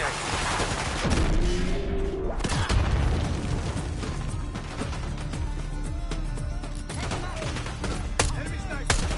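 Minigun and other gunfire in the Black Ops 6 campaign, a dense continuous barrage of rapid shots and booms with sharp cracks and a brief mechanical whine near the start, loud throughout.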